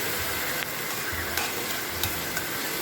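Curry being stirred in a pan with pappadam frying in oil: a steady sizzle with soft spoon scrapes and occasional sharper clicks against the pan, close and unaccompanied by speech.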